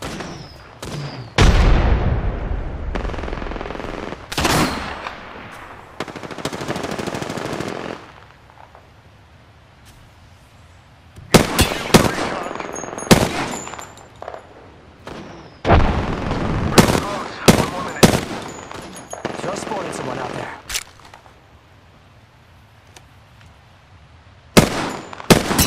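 Video game gunfire in a battle royale match: scattered sharp shots and short bursts, some loud and near, others fainter, with quiet gaps between the volleys and background game ambience.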